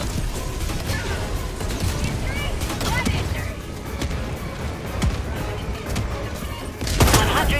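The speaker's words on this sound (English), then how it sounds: "Throwing grenade!" Grenade thrown and exploding in Helldivers 2 amid ongoing combat, with dense clattering gunfire and mechanical noise throughout and a sharp loud blast near the end.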